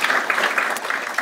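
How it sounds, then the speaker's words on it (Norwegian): A crowd applauds steadily, a dense patter of many hands clapping for a brief moment. "En applaus igjen til Arne Bardalen fra NIBIO."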